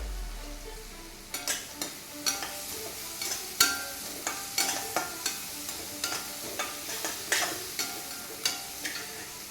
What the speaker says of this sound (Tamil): நம்ம கேப்சிகம் நல்லா வதங்கிடுச்சு